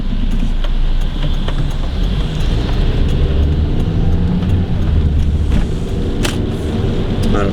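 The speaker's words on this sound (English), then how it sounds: "A lot of traffic." Road traffic rushes past on a wet road beside Civil Creek, a steady loud broadband whoosh of tyres and engines with a few sharper passing surges.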